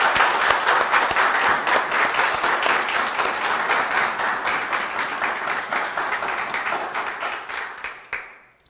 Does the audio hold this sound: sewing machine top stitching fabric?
no